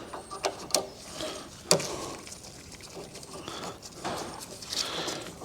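T15 screws are backed out with a ratchet inside a 2019-or-newer GM truck or SUV cabin, quiet close clicking pawl ratcheting in short irregular bursts with a few sharper ticks.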